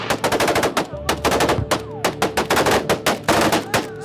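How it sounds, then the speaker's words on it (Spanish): Rapid machine-gun fire during a prison shooting rattles out in dense, loud bursts, one volley after another with only brief gaps, and no voices are heard. "Se produjeron disparos durante 2 horas y media"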